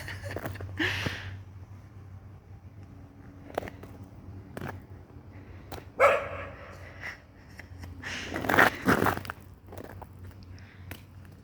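A fearful dog barks and whimpers in a few scattered bursts, loud and close, with footsteps and movement noises between the outbursts.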